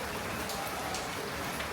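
Steady rain falls outdoors on a hot, humid day, a dense, even hiss of drops spread across the whole moment with no breaks, moderately close and without any voices over it.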